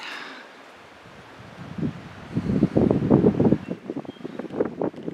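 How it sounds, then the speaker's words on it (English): Strong wind gusts roar outdoors by a back step at a campsite, building from a low rush into heavy buffeting against the microphone that stays loud to the end. "There is so much wind that is stopping."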